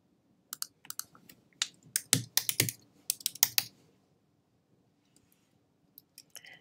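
A burst of rapid keystrokes on a computer keyboard, close and crisp, clustered in quick runs for a few seconds and then trailing off into a few isolated taps near the end.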